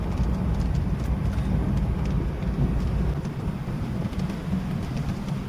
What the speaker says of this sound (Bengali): ভালো বৃষ্টি হচ্ছে বাম্পার বৃষ্টি